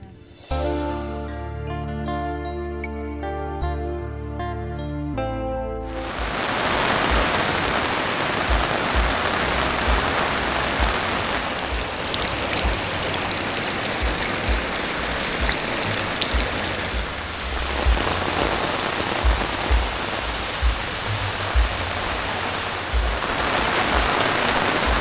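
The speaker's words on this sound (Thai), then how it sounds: "บรรยากาศฝน" Steady rain pours down over a Phu Thai village, a dense continuous hiss with scattered drips and splashes, loud and close throughout after a brief stretch of melodic music at the start.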